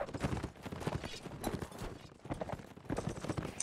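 Hooves clatter in a rapid, rolling gallop as several horses charge in a cavalry battle in a video game. The drumming is loud and continuous, with overlapping beats and no voices.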